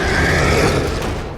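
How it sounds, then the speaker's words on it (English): A deep, creaking growl of the Beast of Nurgle monster in the video game Warhammer 40,000: Darktide swells loudly and then fades, gurgling and grinding up close. "and the Beast of Nurgle sounds like this."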